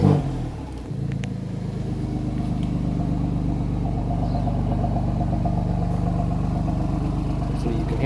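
With its exhaust valves open, an Alfa Romeo car engine runs in a deep, continuous rumble that holds steady and loud, with slight swells as it is revved.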